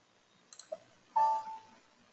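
A computer mouse gives a few quick, faint clicks in a quiet room, followed by a short, brighter tone.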